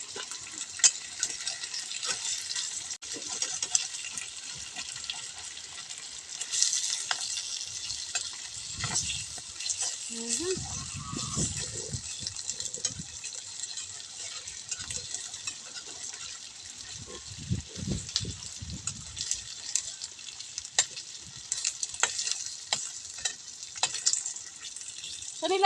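Chicken and ham sandwich filling browning in oil in a pan, sizzling steadily with spitting, splattering crackles throughout, and a few brief low sounds underneath.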